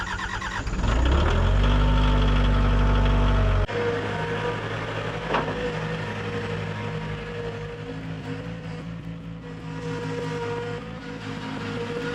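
A skid steer engine revs up loudly and then settles into a steady, rumbling mid-pitched run with a faint clank partway through, heard close by with no talking.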